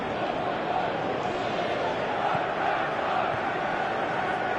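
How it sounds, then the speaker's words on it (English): Steady football crowd noise from a stadium in the video game PES, a continuous dense roar of many voices swelling slightly but holding level throughout. "Crowd appreciates good football all round there."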